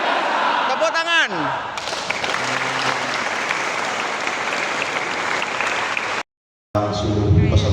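Loud, steady crowd applause at a gathering of a martial arts group's training event, a dense wash of clapping that carries for about five seconds, briefly cut off, with a voice speaking over the start and end.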